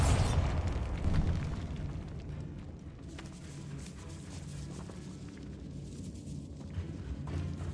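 A Bombarda spell explosion in the video game Hogwarts Legacy opens with a loud, close blast, then decays into a long rumbling, crumbling tail over a low ambient drone, with no talking.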